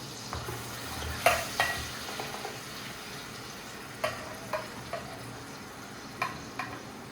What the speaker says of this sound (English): we are going to saute it for a while